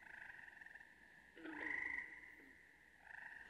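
A leopard frog croaks in a wetland, a single rattling croak rising out of a steady high insect or frog chorus, fairly close and moderately loud against the constant background drone.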